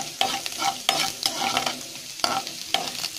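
Urad dal fries in hot oil in a pan while a spoon scrapes and stirs it in regular strokes, with a soft continuous sizzle underneath, close and without talk.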